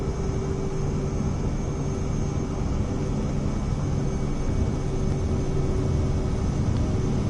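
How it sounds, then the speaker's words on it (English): An airplane in Microsoft Flight Simulator 2024 accelerates down the runway for takeoff, its engine producing a steady, loud, unbroken drone with a faint high whine throughout. "This will take off long before we reach the end of this runway."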